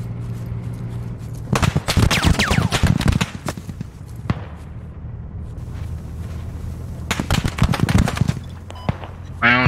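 Bursts of automatic gunfire in a Squad-style military shooter game, one cluster around the two-second mark and another near seven seconds, fairly close, with a low engine-like drone and brief speech underneath.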